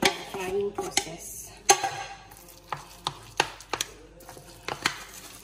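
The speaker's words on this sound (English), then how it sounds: "Now we mix them together and mix it well" A spoon mixes mashed vegetables for pav bhaji in a metal pot, with irregular sharp clanks and scrapes against the pot and soft squelching in between, close and clear with no talking.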